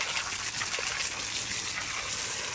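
Steady water spray hisses from a stainless steel garden hose's spray nozzle, a continuous broadband rush without pauses or voices.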